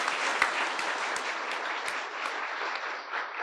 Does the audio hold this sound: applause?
yes